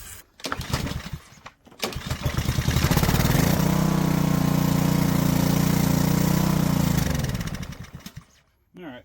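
A junked lawn mower engine sputters, catches and roars loudly at a steady high idle for several seconds, then winds down and cuts out, close up and alone after a few brief knocks.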